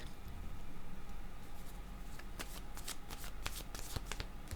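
Tarot cards are shuffled by hand in a quick riffling patter that starts as a steady soft shuffle and turns into sharper, distinct snaps in the second half, close and alone.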